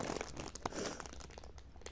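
A plastic blind-box packet of Stitch Labubu toys is torn and crinkled open up close, with dense rustling and crackling bursts throughout and no talking.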